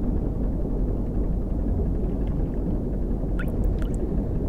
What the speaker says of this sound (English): So that's the sound of the submarine.